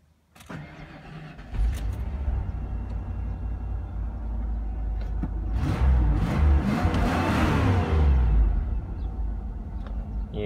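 A 1996 Ford F-350 with the 7.5L 460 V8, sitting unused for over a year, cranks and catches, then runs with a rough, uneven rumble that swells and dips for several seconds up close.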